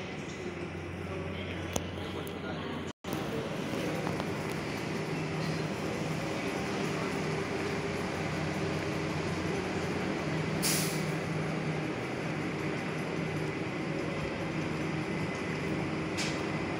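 An XPT passenger train idles at a station platform with a steady low mechanical hum and rumble, a brief air hiss partway through, and faint background voices.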